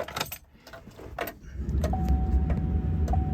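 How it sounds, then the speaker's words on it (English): A key jangles as it goes into the ignition of a 2010 GMC 3500 HD Duramax truck. A steady, high warning chime then starts inside the quiet cab over a faint low rumble. "let's just put the key in"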